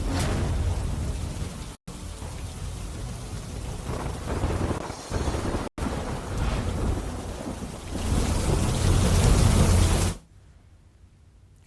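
Unseasonal summer rain pours heavily with thunder, a loud, continuous roar of rainfall and deep rumbles, broken by brief cuts, before dropping to a quiet hush at the end.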